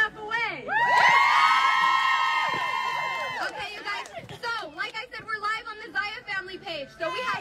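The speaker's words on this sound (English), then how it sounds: "So a lot of screaming and shouting, right?" A large audience at a direct-sales company's convention summit screams, whoops and cheers in a loud, sustained burst, then breaks into excited shouting and chatter.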